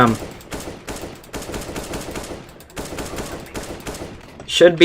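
Rapid automatic gunfire from a rifle in the video game CS:GO, fired in repeated sustained bursts with short gaps between sprays, loud and close, with no talking over it.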